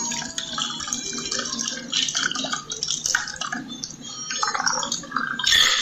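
Cocktail poured through a strainer into a martini glass at a bar demonstration, a steady liquid trickle and splash running throughout at close range with no talk.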